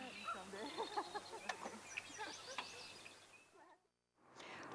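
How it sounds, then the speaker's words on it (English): Bright melodic blackbird song with varied whistled phrases over a steady low hum and outdoor ambience with frogs, briefly cutting out near the end before resuming. "you can hear the blackbirds and the frogs"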